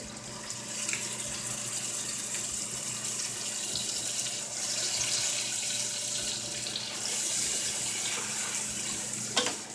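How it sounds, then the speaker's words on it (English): Clam juice pours into hot oil and butter in a pan, making a steady rushing, running-liquid sound that continues evenly throughout, with no talk. "I am going to add a little bit of clam juice in this oil with"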